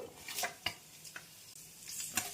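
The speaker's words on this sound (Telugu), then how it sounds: "కొంచెం పచ్చిమిర్చి వేగదాకా వేపుకుందాం" Green chillies, a bay leaf, cloves, cardamom and a piece of cinnamon fry in oil for a tempering, giving a faint crackling sizzle with a few soft stirring taps, close and quiet.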